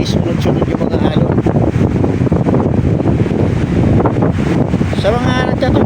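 Strong gusting wind buffets the microphone on a seashore at Lianga, Surigao del Sur, over the roar of waves breaking one after another, loud and continuous, with a voice briefly audible near the end.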